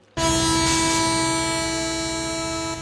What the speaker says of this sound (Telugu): ఇగో ట్రైన్ ఆగినప్పుడల్లా ప్రతి స్టేషన్ లో ఎక్కండి